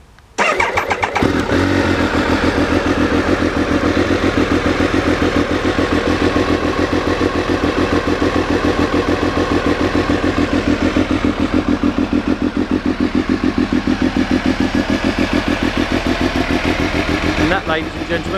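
Triumph Daytona 955 triple motorcycle with a carbon high-level exhaust, its engine running loud and close in a steady, throbbing drone that holds almost unchanged for the whole stretch after a brief quiet start.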